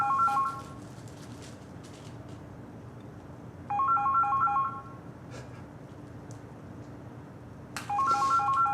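A telephone rings out on an unanswered call, repeating warbling ring bursts of about a second separated by pauses, fairly clear over a low background hiss.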